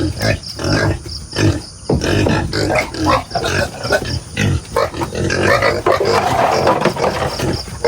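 Pigs grunting and snuffling steadily while feeding, close and loud, with bursts of squealing and clattering throughout.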